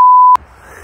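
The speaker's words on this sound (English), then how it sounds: "Get the beeps out for your swearing." A loud, pure censor beep tone holds for about a third of a second, then cuts off abruptly into quiet.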